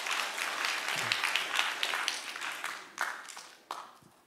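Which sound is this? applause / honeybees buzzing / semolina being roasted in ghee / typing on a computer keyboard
applause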